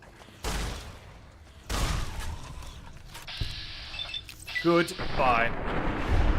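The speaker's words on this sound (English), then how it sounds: "Give me my sturdy caravan shotgun." Caravan shotgun blasts in Fallout New Vegas: a couple of heavy booming shots with scattered mechanical clatter, mixed under a speaking voice and game effects.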